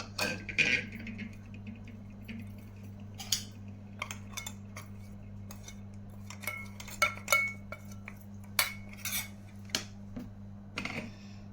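A spoon stirring spices and onions in a cooking pot for paneer masala: repeated scraping clinks and taps of metal on metal in irregular bursts over a steady low hum, with no talking.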